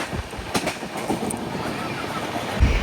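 A Jan Shatabdi Express train between Vijayawada and Chennai, heard from inside while running at about 130 km/h, with a steady rumbling roar and clattering wheels on the rails.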